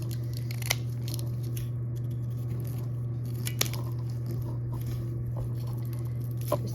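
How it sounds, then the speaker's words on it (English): Scattered crisp snips and cracks as a dahlia tuber clump is cut in half, a few sharp clicks spread over a steady low hum, close and fairly quiet with no talking. "So I'm going to go ahead and cut this in half as well"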